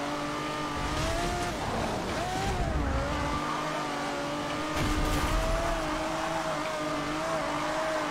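A race car in a racing video game roars at high revs, its engine note rising and falling as tires squeal and skid through corners, loud and continuous throughout.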